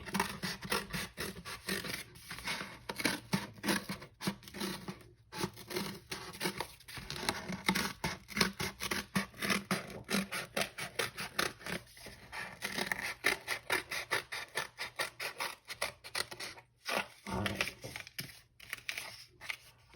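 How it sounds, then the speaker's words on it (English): Scissors cut a circle out of a paper plate, producing a long run of dense, rhythmic crunching snips and scratchy rubbing close by, steady throughout with brief pauses. "you're just gonna cut a circle in the plate"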